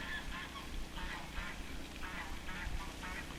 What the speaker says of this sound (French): C'est une variété d'oies que je connais pas. Elles sont blanches et elles font un bruit très différent